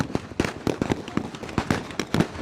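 Rapid gunfire from soldiers firing to repel an attack during a special forces training exercise, a dense run of sharp loud bangs and cracks at close range, overlapping shots with no talking.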